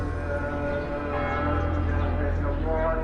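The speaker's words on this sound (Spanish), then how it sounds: "solo el sonido de las campanas y de los almohacines revelan al viajero las numerosas iglesias y mezquitas" Church bells ring in Jerusalem, their steady, sustained tones blending into an even, resonant hum that carries through the whole stretch without pause.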